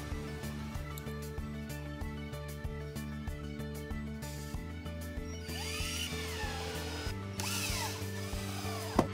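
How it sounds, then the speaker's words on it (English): A power drill drives screws through wooden stretchers into a tabletop while an Osborne pedestal kit is fitted. The motor whines steadily with pitch shifts and pauses as each screw seats, close and alone. "Now we can screw the remaining screws into the stretchers through the tabletop."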